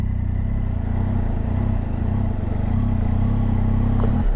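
A Triumph Tiger 800 XCa motorcycle engine runs steadily and close, a loud low throbbing drone that holds evenly throughout with no clear revving.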